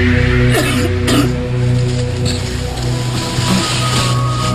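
A person on a high-altitude mountain expedition coughs and clears the throat in a couple of harsh close bursts, over a steady low rumble of wind or background noise.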